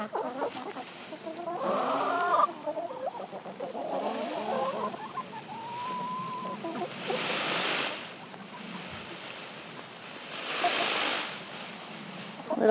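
A male peacock performing his mating display on a farm gives several harsh, honking calls, then two bursts of rattling, shivering feathers. The sounds are moderately close, over steady outdoor background noise.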